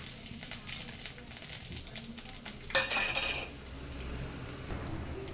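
Mustard seeds, urad dal, garlic and a dried chili fry in hot oil, giving a steady low sizzle with brief stirring and utensil clatter, including a louder scrape near the middle; no one speaks.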